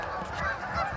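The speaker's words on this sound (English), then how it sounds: "The amount of geese. Honk, honk." A large flock of geese honks in a dense, continuous chorus, loud and close, overlapping calls with no pauses.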